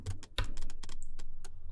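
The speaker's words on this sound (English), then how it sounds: "That clicking you hear is just the throttle detents, because I've got a very slightly noisy sensor on my throttle." Clicking from flight sim throttle detents caused by a slightly noisy throttle sensor, heard as a quick run of sharp, close, evenly spaced clicks, like keyboard tapping, with no voices.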